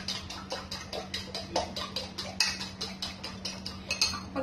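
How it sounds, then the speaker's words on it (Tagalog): Two eggs being mixed in a bowl, a quick steady rhythm of light clinking taps from a utensil against the bowl, close and fairly quiet over a low hum. "mix na muna natin yung itlog"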